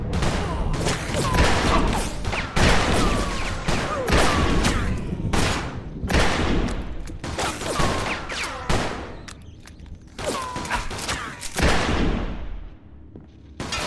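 Rapid bursts of gunfire from the Mafia II video game fill the whole stretch, loud and close, with volleys and single shots packed together and a few gaps, the firing nearly continuous throughout.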